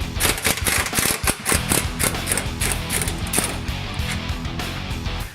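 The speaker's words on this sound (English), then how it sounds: "Remove the bolt holding the rear tow arm and integral link from the rear spindle." A ratchet clicks in rapid, repeated bursts while loosening a bolt that holds the rear toe arm and integral link to the rear spindle of a 2016 Ford Mustang EcoBoost, loud and close throughout.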